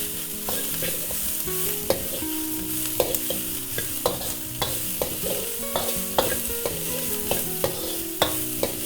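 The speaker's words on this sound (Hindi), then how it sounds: "अब हाई हीट में इनको अच्छी तरह से पकाएंगे।" Capsicum, bell peppers and cabbage stir-frying over high heat for restaurant-style veg fried rice, a loud steady sizzle broken by repeated metallic ladle scrapes and clanks against the wok, no voices.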